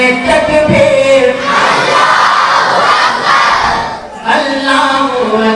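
A large crowd at a religious public gathering chants Allahu Akbar in unison in response to a takbir call, loud massed voices roaring together for several seconds and then surging again.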